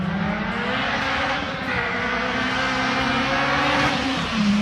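A car engine screams at high revs, sounding supercharged, a loud sustained drone with a steady pitch that rises slightly near the end, with no talk over it.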